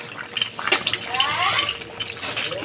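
Pre-fried lentil bori go into a simmering sim aloo curry in a pot, with short clinks of utensil against pan and a soft liquid splash and bubbling over a brief moment.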